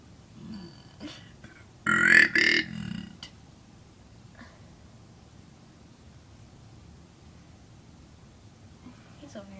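A short, croaky burp voiced to imitate a frog, one loud burst close by lasting about a second amid quiet room noise.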